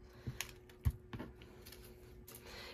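Heavy-duty paper punch cutting through cardstock, several sharp clacks and thumps at irregular intervals, close and fairly crisp, with some handling noise and no talk.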